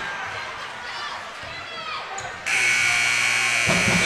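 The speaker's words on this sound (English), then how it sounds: "that'll do it as the buzzer goes to end this one" A long electronic buzzer sounds to end a boys' high school basketball game between Rossford and Genoa, cutting in loudly and holding steady after a stretch of crowd noise and commentary.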